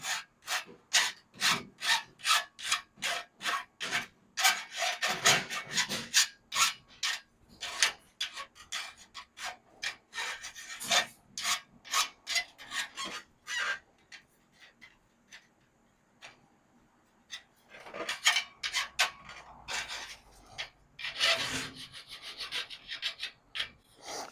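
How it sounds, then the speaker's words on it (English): Filing or scraping the burr off the outside of a freshly cut metal tube during a grill condenser repair, a quick run of close rasping strokes, then a pause and a few slower, rougher passes. "And then we just clean the burr off the outside"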